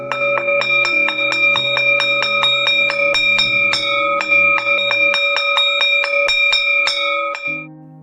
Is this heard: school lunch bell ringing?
yes